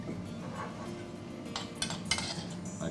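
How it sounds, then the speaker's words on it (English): Pan-seared skate fish set onto a plate, with light clinks and scrapes of cutlery against the dish, a few sharper taps near the end, close and quiet against a soft background hum. "Put the fish on the plate."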